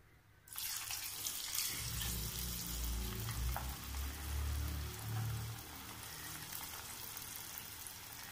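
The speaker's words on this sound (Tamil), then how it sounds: "மிக்ஸ் பண்ணி விட்டாச்சு, ஃப்ரை பண்ணி எடுத்துடலாம். எண்ணெய் சூடேறிடுச்சு." Macaroni dropped into hot oil for macaroni chips, a loud steady frying hiss that bursts in after a brief quiet moment and keeps on evenly, with no voices.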